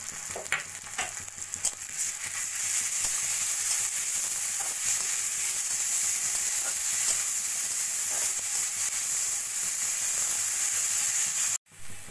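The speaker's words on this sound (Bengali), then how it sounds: "গাজরটা দিয়ে ভাজা ভাজা করে নিয়ে" Onion, carrot and chopped green chilli frying in a pan with a steady, loud sizzle, broken by scraping stirs, ending in a brief cut of silence near the close.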